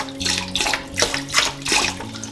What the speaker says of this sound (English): Just going to add some vinegar in the water with the fish